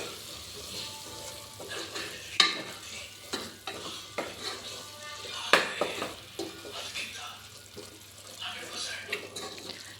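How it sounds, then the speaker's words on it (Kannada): Tomato and spice masala with coriander powder is stirred in a pan for tomato bath, giving a soft, continuous sizzle broken by repeated scraping clanks of the spoon against the pan at irregular intervals. "ಚೆನ್ನಾಗಿ ಇವಾಗ ಮಿಕ್ಸ್ ಮಾಡ್ಕೊತ ಬರೋಣ"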